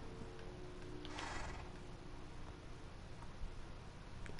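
A single horse whinny in Minecraft rises briefly over a steady low hiss, fairly faint, followed by a few soft ticks.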